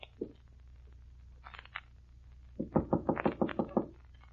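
Knocking on a door in an old-time radio crime drama: a few isolated taps, then a quick run of about eight firm, close raps, with no talk over them.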